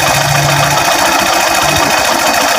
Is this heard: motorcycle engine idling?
yes